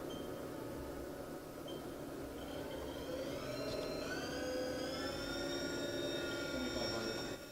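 Spindle of a Haas TM-1P vertical machining center, rated to 6,000 RPM, spinning up: a faint, steady mechanical hum with a whine that climbs in pitch partway through.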